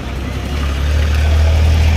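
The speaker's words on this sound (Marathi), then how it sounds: "भरपूर ट्रॅफिक झाली, तुम्ही बघू शकता।" Heavy road traffic near a fairground beside a river: a deep engine rumble from nearby vehicles swells and holds loud and steady, with idling motors close at hand.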